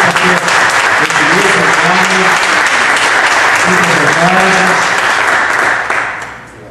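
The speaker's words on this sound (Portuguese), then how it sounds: "Eu peço à igreja que dê uma linda salva de palmas para Jesus" Loud, sustained applause from a large church congregation filling a room, with cheering voices rising over it before the clapping fades out at the end.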